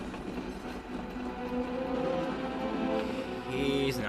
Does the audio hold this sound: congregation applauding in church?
no